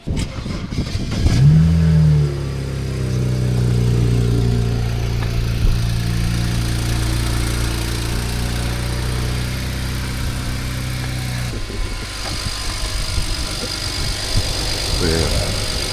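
A twin-turbo car engine cranks and fires, revs briefly, then settles into a steady, loud idle with deep rumbling; a voice speaks faintly over it near the end.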